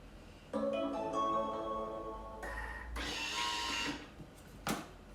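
A Thermomix food processor chops ingredients in short bursts. A whirring blade motor runs for about two seconds, pauses, then spins again briefly, followed by a faint clunk. The sound is quiet and close, with no talking over it.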